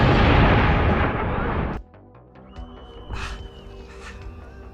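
A bomb hidden in a bag explodes beneath a podium at a film's public event, a loud sustained blast roar that cuts off abruptly, followed by quieter debris clatter and scattered cries.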